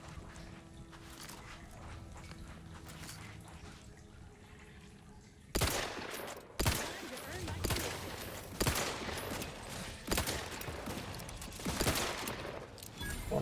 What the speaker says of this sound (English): Right, repeating rifle.